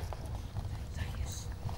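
Horse hooves clip-clop at a steady walking rhythm under a low rumble, fairly faint, with people talking alongside.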